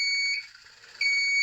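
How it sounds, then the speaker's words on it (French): A radio-controlled model truck reversing at low speed sounds its backup beeper, a steady high electronic tone that dips briefly in the middle before returning at full strength. "petit bip désagréable, on peut l'inhiber"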